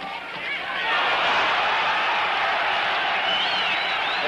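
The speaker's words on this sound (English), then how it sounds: "The crowd will yell every time Floyd even seems to land." A large crowd roars and yells steadily, swelling after a quieter opening, at a 1968 heavyweight boxing match between Floyd Patterson and Jimmy Ellis, with a broad continuous wash of voices.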